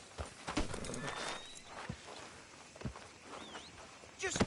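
Hooves of a horse walking in Red Dead Redemption 2 clip-clop in a loose rhythm through the game soundscape, with voices talking over the steps.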